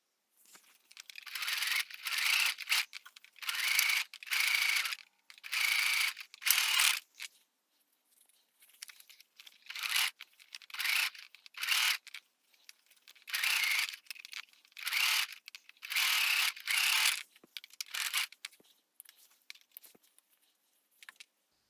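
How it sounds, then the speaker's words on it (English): Rapid bursts of a sewing machine stitching fabric for a fitted face mask along a quarter-inch seam, running in repeated close, fairly loud runs with short pauses between them and no talking. "So let's head to our sewing machine, and now we're just gonna sew on a 1/4 inch distance while opening this."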